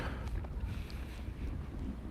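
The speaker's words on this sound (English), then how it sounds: "It's pretty windy here today" Steady low wind rumbles and buffets against the microphone, a continuous blustery roar with no voices.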